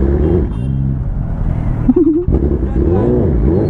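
A stage 2 tuned BMW S1000RR motorcycle accelerates hard in first gear, its loud, close engine note climbing and dropping in pitch through quick revs.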